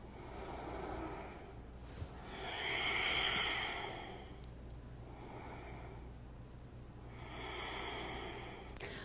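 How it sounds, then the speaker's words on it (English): Slow, deep yogic breathing during a seated practice, with two long, airy, hissing breath cycles rising and fading close up, sounding almost like surf, over a low steady hum. "Perhaps before we close the sequence, you'd like to do a robin's breath."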